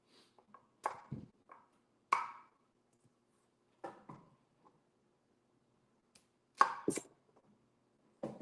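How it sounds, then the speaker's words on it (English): A knife chops the ends off vegetables on a cutting board in a home kitchen, with sharp, sparse chops that come singly and in quick pairs, close and clear in a quiet room. "So I'm going to chop off the ends real quick."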